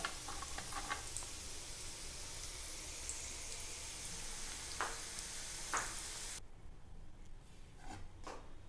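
Pakoras, deep-fried fritters of batter, frying in hot oil with a steady close sizzle and scattered bubbling pops. The level drops noticeably partway through as the sizzle continues more softly.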